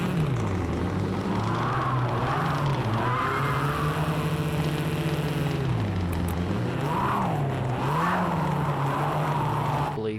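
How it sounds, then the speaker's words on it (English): A WRX rallycross car engine revs and wavers as the car slides under the e-brake, pitch rising and falling through the turn with tire noise, close and continuous throughout. "There he may have actually used his e-brake to get it to slide that time"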